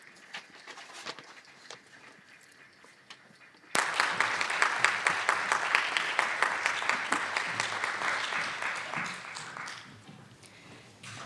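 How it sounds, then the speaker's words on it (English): A large audience bursts into sustained applause to welcome speakers onto the stage at the opening session of a book launch on universal health coverage. It starts abruptly after a few seconds of quiet room murmur and stays loud and dense to the end. "Please welcome them with a big round of applause."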